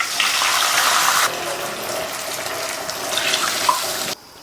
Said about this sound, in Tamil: மாவு எடுத்த கப்லயே 1/2 கப் அளவுக்கு தண்ணி சேர்த்துக்கலாம்.